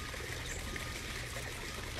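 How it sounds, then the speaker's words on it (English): Continuous trickling water from a backyard pond outdoors, a steady even wash of flow with no pauses, fairly close and without speech. "Listen to the water"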